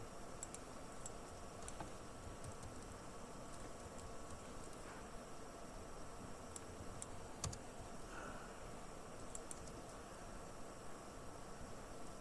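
Typing on a computer keyboard while writing Java code, faint irregular key clicks spread across a quiet room with steady background hiss and a few sharper taps.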